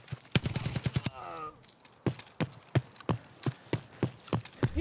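Shotgun blasts from Escape From Tarkov, a rapid string of about a dozen sharp, loud reports fired in quick succession at close range, with a brief mechanical rattle partway through.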